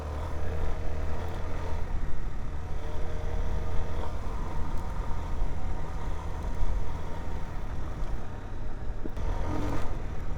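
A Suzuki DR-Z4S motorcycle in ride mode A runs with a throaty, low engine rumble that holds steady and close for the whole stretch, with no talking.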